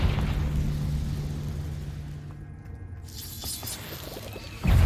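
A fire-spell blast cast in the video game Hogwarts Legacy: a sustained low rumble with crackling, then a sudden loud booming burst at the end, heard alone without talk.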